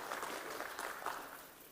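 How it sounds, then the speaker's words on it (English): An audience at a matric results announcement event gives a DJ a round of applause, heard as a brief, distant, steady wash of clapping. "Can you please give the DJ a round of applause?"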